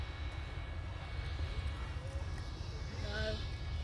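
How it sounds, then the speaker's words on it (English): A fixed-wing airplane landing and taking off at an observation area beside an airport, its engine a steady, fairly distant drone under continuous wind and outdoor rumble. "We're just watching the airplane guys landing and taking off."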